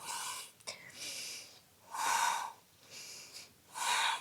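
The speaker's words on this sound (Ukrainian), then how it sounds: "видих, вдих, видих, вдих, видих" Slow yoga breathing during a warming hatha session, with soft airy inhales and exhales repeating in a steady rhythm, close and quiet, with no talking.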